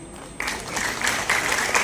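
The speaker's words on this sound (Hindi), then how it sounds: "एक बार मीठी तालियां आप सभी की होनी चाहिए" An audience at a khadi and village industries seminar breaks into applause after a brief low murmur. The clapping starts abruptly and stays full and steady to the end, swelling slightly in the last half.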